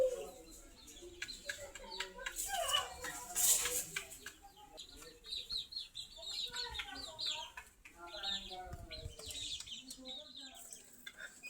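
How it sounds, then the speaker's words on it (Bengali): Chickens cluck and murmur softly while drinking water, with repeated short clucks at close range over faint clatter of a water dish, some clucks rising into sharper calls. "এবার এই মুরগিটা পানি খাচ্ছে।"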